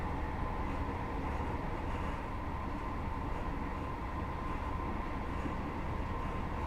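Steady low rumble and rolling rail noise from a train in a simulator game running Doncaster to York via Leeds, continuous and even throughout with no voices, though no distinct brake squeal stands out.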